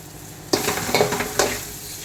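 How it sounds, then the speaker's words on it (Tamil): Ingredients sautéing in a pan while being stirred, a steady sizzle with scraping strokes and a couple of sharper clatters, close and alone with no talk. "இப்போ வதக்கிக்கலாம்."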